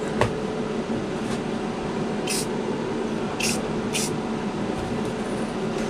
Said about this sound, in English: That is literally the main spray painting portion done.